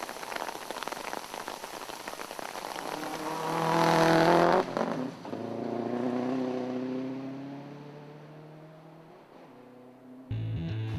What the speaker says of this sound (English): They rolled their WRX just last year and are returning this year with a silver WRX.